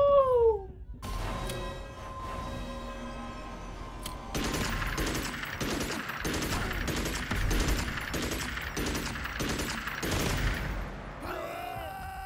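Rapid automatic machine gun fire rattles in a video game in a dense, steady burst lasting several seconds, with a shorter sound event before it and another after it, while game effects play around it.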